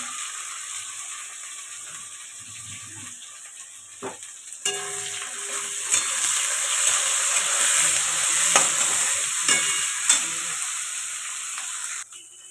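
Chicken pieces with tomatoes, ginger and a pinch of salt fry in a hot pan for dohi methi chicken, giving a steady, close sizzle with occasional clanks and scrapes of stirring.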